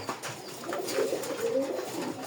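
Large Golla pigeons kept by a breeder coo softly nearby, a few low rolling throaty calls over faint background noise.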